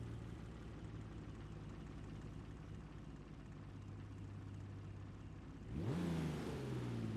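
Drift car engines in the racing game Assetto Corsa drone at a steady low idle, then rev up sharply near the end, loud and continuous with no talk.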